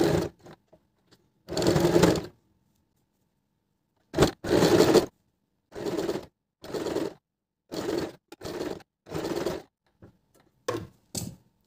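Sewing machine stitching a strip onto a chikankari kurti, running in short separate bursts of rapid mechanical clatter with silent pauses between, close and clear without talk.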